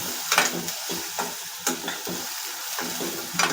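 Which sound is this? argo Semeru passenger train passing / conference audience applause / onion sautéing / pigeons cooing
onion sautéing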